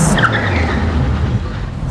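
A Porsche Spyder RS with steel brakes brakes hard from speed, tires scrubbing and the engine note dropping away over a couple of seconds, loud and close.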